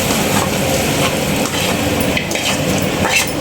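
Fried onions stirred into dosa batter with a spoon in a bowl for homemade spicy kara dosai, giving a wet, sticky mixing sound with repeated scraping strokes and small clinks, close and fairly loud, with no talking.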